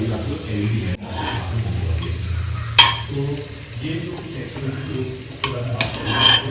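Squid rings fry in oil in a pan while being mixed, with a steady sizzle under a low hum and a few sharp utensil scrapes and knocks against the pan.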